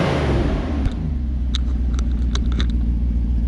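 A car engine runs close by with a loud, steady, low rumble that carries throughout, with faint faster ticking sounds in the upper range and no speech.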